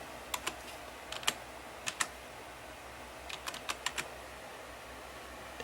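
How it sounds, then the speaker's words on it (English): Password being typed on a computer keyboard during a Linux install, heard as scattered, sharp key clicks in small bursts over a quiet background, with no talking. "Then I'm going to type in my password."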